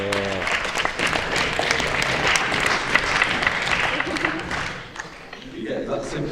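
A comedy audience gives a brief sympathy clap, a dense burst of applause that holds steady for several seconds and then thins out, with a voice speaking near the end.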